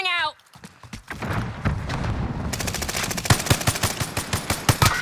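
Call of Duty: Modern Warfare gameplay with rapid automatic gunfire, a dense burst of rattling shots building into sharp, evenly spaced cracks, loud and close, after a brief voice at the very start.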